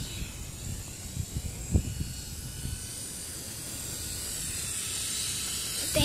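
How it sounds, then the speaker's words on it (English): A drone flies in a video game, a steady airy whirring hiss that holds throughout and swells slightly near the end, with a few faint clicks early on. "Oh yeah, that is a drone."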